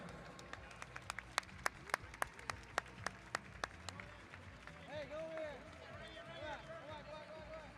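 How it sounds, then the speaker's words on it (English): A handful of sharp, scattered claps ring out in the open air at a velodrome cycling championship. The clapping is thin and irregular, then fades under talk and ambient noise. "round of applause for everybody riding out here"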